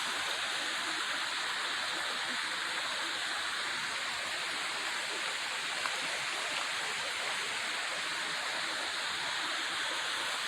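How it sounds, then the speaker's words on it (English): A waterfall spilling from the top of a rocky mountain canyon near Ogden gives a constant, even hiss and rush of falling water, steady and fairly near, without any voices. "there's a waterfall coming out of the top"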